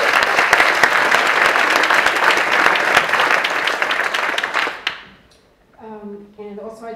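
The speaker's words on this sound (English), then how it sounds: "Let's give them a round of applause." Loud, dense applause from a large audience at a college's 40th anniversary celebration, sustained for about five seconds and then cutting off abruptly, followed by a speaker's voice continuing alone.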